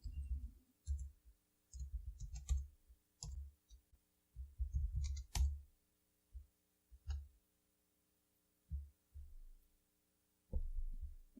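Typing a command into a Linux terminal on a computer keyboard: irregular bursts of dull, close keystroke thumps with a few sharper clicks, separated by short pauses, and no voice.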